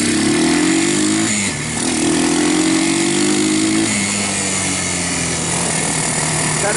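An Arctic Cat Bear Tracker 250 ATV, fitted with a PZ30 carburetor conversion, runs loud and close, revving and shifting up to third, its engine note dipping briefly before climbing again.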